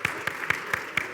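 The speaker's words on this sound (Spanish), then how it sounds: "Denle un aplauso al Señor." Church congregation clapping in rhythm, steady evenly spaced claps about every quarter second, moderately loud, with no talk over it.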